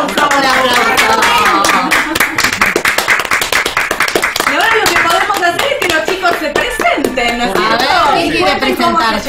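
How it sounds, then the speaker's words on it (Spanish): Clapping from a small audience at a radio event, sharp rhythmic hand claps across nine seconds mixed with a lively voice or music above them. "Un aplauso. Un aplauso."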